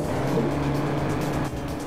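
A Volkswagen Golf in a street racing video game runs at full throttle, its engine a steady, loud droning hum that dips slightly near the end.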